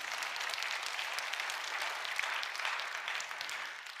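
Applause from a church congregation during a sermon fills the whole stretch as a steady, dense wash of many hands clapping at moderate volume, with no talking over it.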